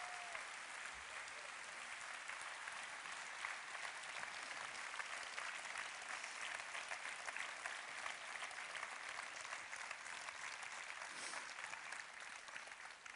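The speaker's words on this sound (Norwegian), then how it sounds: "Ekstra applaus for Blåseensemble." Steady audience applause in a hall for a wind ensemble serving as house orchestra at a closing show for municipal employees in Larvik, dense and sustained throughout without a break.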